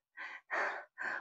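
Three heavy, breathy panting gasps in a row, close and fairly loud, with short silent gaps between them and no talk.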